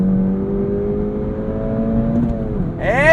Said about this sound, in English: when you go into the Sport Plus drive mode and you downshift and you put your foot down